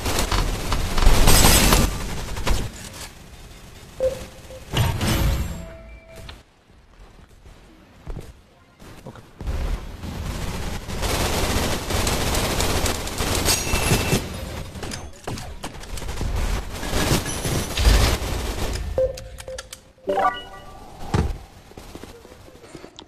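Bursts of gunfire and booming impacts in the Gun Raiders death match shooter, loud and near, coming in irregular clusters with quieter gaps between them.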